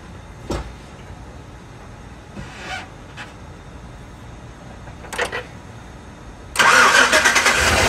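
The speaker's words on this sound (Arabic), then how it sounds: "أنا بشغل السيارة." A 2014 GMC Yukon engine cranks and fires up after a few scattered clicks and knocks, ending in a loud, rough burst of engine noise that continues into the final second.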